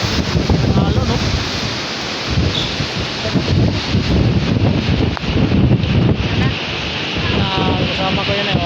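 Ocean waves churn and rush in a constant loud wash, mixed with heavy wind buffeting the microphone and no clear gaps between surges.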